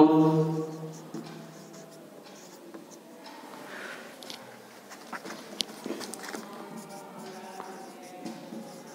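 A pen scratches notes onto paper in a classroom lesson, soft intermittent strokes and taps heard close but faint, with someone talking at the start.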